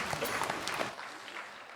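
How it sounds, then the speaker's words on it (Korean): A church congregation at a Sunday worship service claps together, a brief burst of applause that fades quickly into quiet. "박수를 하나님께 드리겠습니다."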